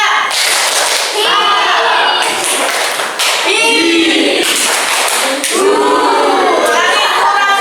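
A classroom of students doing a rhythmic clapping routine called the happy clap, loud and dense with bursts of voices chanting or shouting along between the claps.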